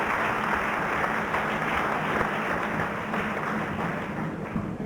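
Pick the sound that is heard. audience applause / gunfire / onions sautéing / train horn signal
audience applause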